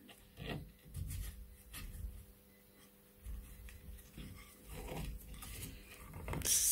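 A macrame cord is pulled very tight around a stone in a double half hitch, giving soft, close rubbing and rasping bursts that come in irregular pulls, quiet and with no talk.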